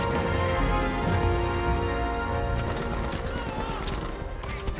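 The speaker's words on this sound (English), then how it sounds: "You will die to my chrome, Sten." Chrome Sten submachine gun firing in Battlefield V, heard as dense rapid bursts of automatic gunfire mixed into loud game sound and music, continuous throughout with no one talking.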